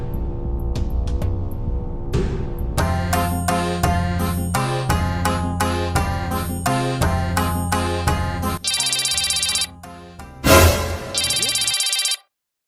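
A mobile phone ringtone playing loudly and continuously, a bright repeating melodic tune with jingly chimes that runs for about twelve seconds before stopping abruptly.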